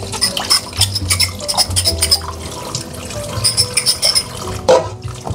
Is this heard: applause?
no